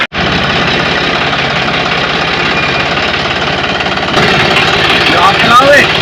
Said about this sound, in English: we're gonna go hitch a ride on the tractor